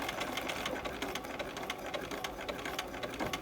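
A sewing machine stitching piping with the stitch length shortened, running steadily and close at a fast, even mechanical chatter for the whole stretch, with no talking over it.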